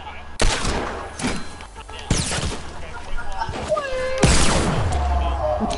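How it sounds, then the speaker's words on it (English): Rapid bursts of gunfire in a Fortnite match, several sharp shots and volleys in quick succession, loud and close, with excited talking over parts of the clip. "I shot three shots and hit everyone"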